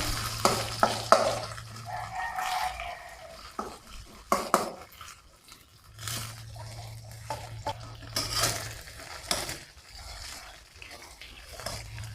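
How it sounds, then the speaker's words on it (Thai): Cooked rice frying in hot oil in a pan gives an intermittent crackling sizzle, with clattering spoon-and-pan scrapes in bursts and quieter pauses between them, heard up close. "เมื่อน้ำมันร้อนแล้วนะคะเพื่อนๆนำข้าวลงไปทอดก่อนเลยค่ะ ข้าวก็เป็นข้าวสุกเนาะ"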